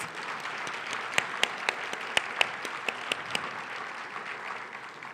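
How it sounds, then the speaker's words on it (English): Audience applause at an MLK Day event, a steady wash of many hands clapping with a few sharp, close claps standing out, heard from the middle of the crowd. "Let's give them a round of applause."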